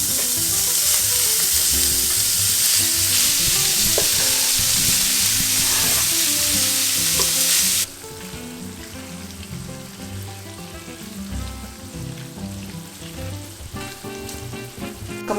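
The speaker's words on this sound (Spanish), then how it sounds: "Aquí ya tenemos caliente nuestra cazuela y vamos a poner nuestro tocino" Chopped bacon hits a hot clay cazuela for Jalisco-style carne en su jugo, giving a loud, dense sizzle. Halfway through the sizzle drops to a softer, steadier crackle with faint pops, and no voices are heard.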